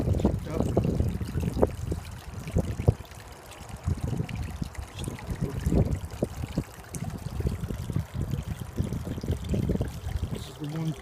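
Water trickles and splashes steadily down a backyard pond waterfall into a 125-gallon prefab plastic pond. The close, continuous burbling goes on throughout, and a person talks over it.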